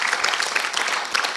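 Audience applause for Bruno Faure, president of the Cantal departmental council, at a rural digital services forum, a dense, steady burst of many hands clapping at moderate loudness.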